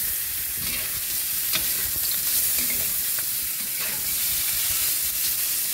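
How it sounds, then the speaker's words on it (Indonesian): Pork sizzles and fries in a pan while being stirred, a steady loud hiss broken by soft scraping strokes of the spatula, with no talking. "kita masukkan daging babinya ke dalam dan kita aduk-aduk dulu"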